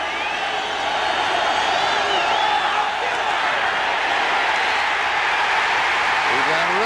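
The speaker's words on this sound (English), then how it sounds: "The crowd is small in number, but listen to them." A small crowd of Phoenix Cardinals fans cheering at a 1990 NFL stadium game against the Philadelphia Eagles: a continuous roar of voices and applause that holds steady throughout, with a voice talking over it.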